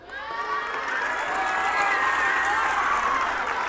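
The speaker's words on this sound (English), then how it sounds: "Give him a round of applause on that one." An audience at a school assembly breaks into sustained clapping mixed with cheering and shouts, a dense, even wash of crowd noise that holds steady throughout.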